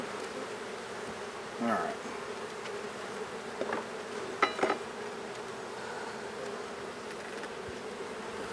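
Honeybees buzz steadily in a constant, moderately loud drone during a beehive inspection, with a few brief knocks and clicks from handling the hive and a short spoken word partway through.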